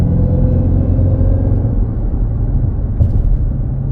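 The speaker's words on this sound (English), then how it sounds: "The mechanical whining of the root supercharger, the sound of the engine firing in the exhaust in the back" Deep, loud exhaust rumble pours from a car engine with a Roots supercharger, a steady close drone with a mechanical whine threaded through it, briefly swelling around the third second.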